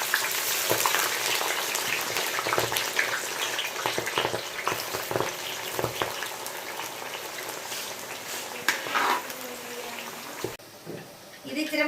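Jackfruit slices dropped into hot oil, a dense crackling sizzle that runs throughout with occasional clicks and splashes, close and moderately loud, briefly quieter near the end.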